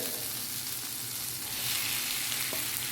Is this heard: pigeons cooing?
no